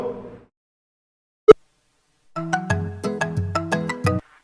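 A phone ringtone plays a bright repeating melody after a short voice fragment and a single sharp click.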